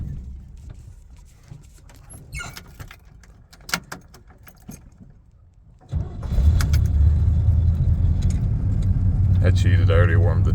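A square-body truck, already warmed up, cranks and fires with a sudden loud start, then settles into a steady low rumble that runs to the end; keys jingle and a voice talks during the quieter stretch before it catches.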